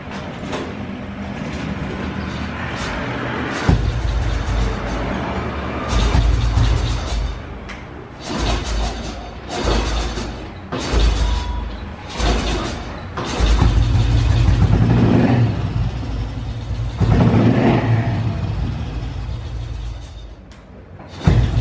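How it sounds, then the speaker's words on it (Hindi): Old Royal Enfield motorcycle engine, its point setting just adjusted, starting and revving loudly in uneven bursts, rising and dropping repeatedly with brief gaps, close by and alone. "अभी हमारी गाड़ी स्टार्ट तो हो रही है"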